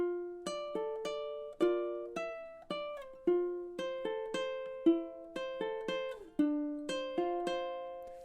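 Fingerstyle ukulele playing measures 23 to 27 of a song, a steady sequence of plucked, ringing notes and arpeggiated chords, close and clear, played alone with no voice.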